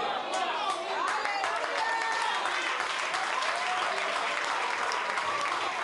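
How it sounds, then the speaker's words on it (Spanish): A congregation at a church service applauds, with loud, dense, sustained clapping and some crowd noise throughout. "Aplauso."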